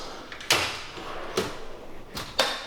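Utility drawer in a garage workshop tool chest sliding open and shut, a few sharp clattering bangs spaced apart, close and moderately loud with light rattling between.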